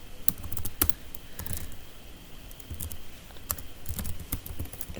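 Typing on a computer keyboard while filling in a spreadsheet: irregular quick clacks and taps in short bursts, close and fairly faint, with no talking.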